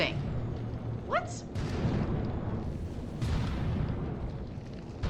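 Cram cannons firing in a video game, heard as a dense, continuous rumble of blasts and booms with a brief rising whoosh early on, steady and loud throughout.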